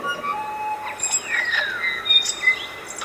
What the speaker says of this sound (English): So this is a native New Zealand bird.